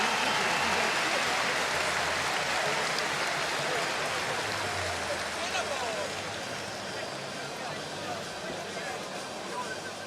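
An arena crowd at a UFC event applauds and cheers after a fight, a broad, continuous roar of clapping that stays loud throughout and eases slightly toward the end.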